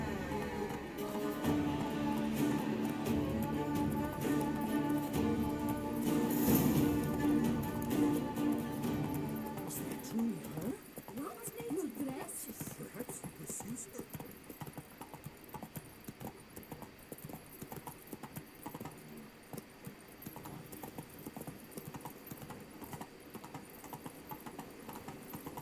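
Horse hooves clip-clop in The Witcher 3, a steady galloping patter over a busy game soundscape that thins out in the second half, leaving the hoofbeats quieter and more sparse.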